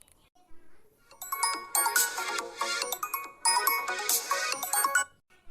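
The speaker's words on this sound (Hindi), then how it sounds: "देखो तहार फोन आवत है।" A phone ringtone plays an incoming-call melody in two bright bursts of about two seconds each, separated by a short pause, fairly near and clear over a quiet room.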